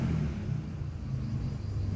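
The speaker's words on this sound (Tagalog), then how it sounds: "Di ba may tricycle na?" At dawn a motorized tricycle's engine drones and revs with a low rumble, fairly faint and steady, as if passing down a neighborhood street.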